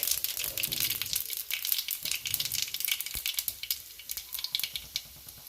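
Cinnamon sticks and cumin seeds fry in hot oil with a bright, crackling sizzle. Rapid pops and crinkles grow sharper and more clipped toward the end.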